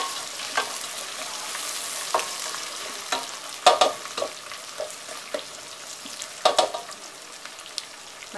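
Sliced onions fry in a pan for Agri-style sukha mutton, a continuous close sizzle with scattered clicks and spoon scrapes spaced irregularly across the clip.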